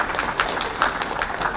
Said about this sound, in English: Once again, a big round of applause to all of you.